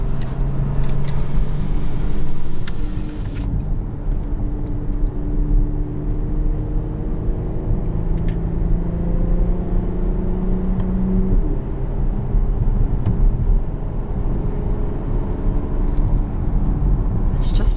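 A 2018 Porsche Panamera 4S with its 2.9 litre engine revs up and down in rising and falling sweeps, heard loud and close from inside the cabin as a steady roar.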